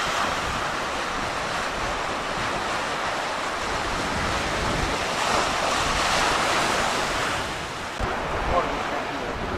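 Strong, gusting wind roars across a rugged rocky shoreline while heavy ocean surf crashes and churns beneath it, forming a loud, continuous wash of noise with wind buffeting the microphone throughout.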